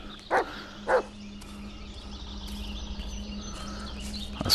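A dog in the Blair Witch VR video game gives two short, sharp barks in quick succession, fairly close, followed by a quiet ambient forest hum with faint bird chirps.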